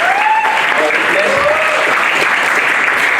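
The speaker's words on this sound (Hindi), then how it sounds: "जोरदार तालियां नयन के लिए" Loud, steady applause from an audience at an office award ceremony as Nayan is named auditor of the month, dense clapping filling the whole stretch with a voice faintly audible beneath.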